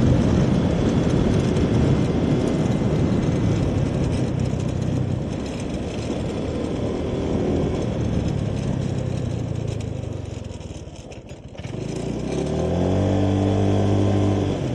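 Rushing wind and engine drone of a motorcycle riding at around 60, picked up by a wireless clip-on microphone. The roar is broad and continuous, briefly dips near the end as the engine note shifts, and no one speaks.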